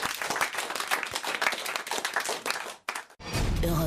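Studio audience on a French radio comedy show applauding in a dense, continuous clatter that cuts off abruptly near the end, followed by a jingle.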